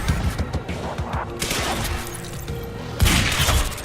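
Rapid gunfire from the Quantum Break shooter game rattles in close, dense bursts, with a heavy impact near the end and no talking.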